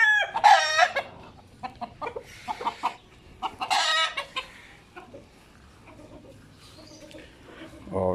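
Backyard chickens cluck in bursts while a rooster crows loudly nearby, calls repeating in short loud outbursts with quieter clucking and rustling between them, and a voice speaks briefly.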